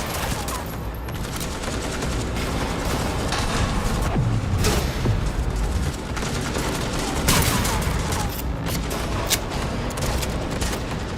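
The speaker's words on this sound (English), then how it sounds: "This allows players to bounce bullets off walls and hit enemies hiding behind cover." Heavy firefight in Cyberpunk 2077 with ricocheting bullets, dense overlapping gunshots and machine-gun bursts with occasional booms and thuds, loud and continuous across the scene, with faint voices mixed underneath.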